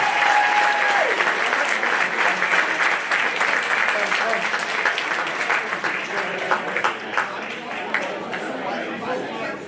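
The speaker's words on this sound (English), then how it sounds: "one last huge round of applause for our state champion girls basketball team" Sustained applause from a large school-assembly crowd honoring a state champion girls basketball team, dense clapping throughout with some cheering and chatter mixed in, tapering slightly toward the end.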